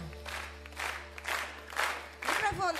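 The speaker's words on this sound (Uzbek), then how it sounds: "Qani bitta chiroyli qarsak bo'lsin kelin poshshamizga." Wedding guests applaud the bride, their clapping rising and falling in several waves over a steady low hum, with a voice briefly audible near the end.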